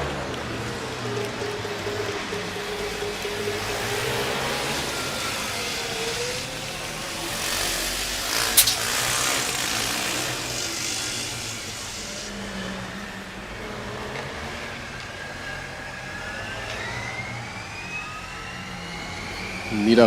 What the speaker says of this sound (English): Niederrhein again with that wet fart in a napkin kind of sound from the exhaust